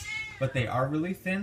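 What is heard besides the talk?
cat meowing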